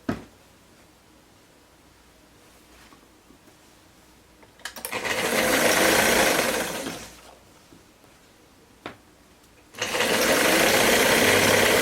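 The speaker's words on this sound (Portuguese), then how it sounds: "Costura o gancho." A sewing machine stitches the crotch seam of a jumpsuit in two loud, steady runs of several seconds each, with quiet pauses and a few clicks between them.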